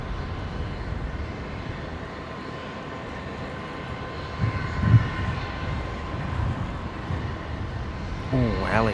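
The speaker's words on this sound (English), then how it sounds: "We're going to pull up now for Jetstar 148. Coming in from Auckland, runway 19 left," A Jetstar Airbus A321neo arriving from Auckland lands on runway 19 left at Brisbane airport, producing a steady broad roar of engine and air noise that swells slightly near the end, with voices talking over it.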